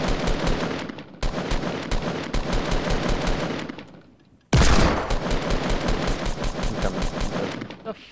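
Rapid automatic gunfire in the Fortnite Battle Royale video game, loud and close, two long continuous bursts split by a brief pause, with faint talk underneath.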